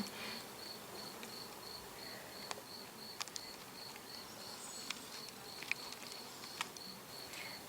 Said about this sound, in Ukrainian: ця яскрава істота оса блисківка